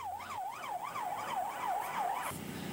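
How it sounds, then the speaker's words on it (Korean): A fire truck siren wailing as the truck responds to a fire call, a steady rising-and-falling electronic wail repeating about every quarter second, fairly close and loud over road noise, cutting off abruptly near the end. "출동 지령과 함께 소방차들이 화재 현장으로 달려갑니다."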